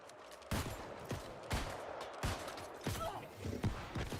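Video game gunfire sounding as repeated loud shot bursts at irregular intervals, dense and close, with some game noise between the shots.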